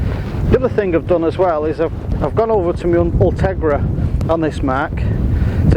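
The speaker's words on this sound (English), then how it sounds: "I have to excuse the wind, quite windy today" Wind buffets the microphone with steady low rumbling on a rocky shoreline at Mostyn Dock in North Wales, running underneath someone talking throughout.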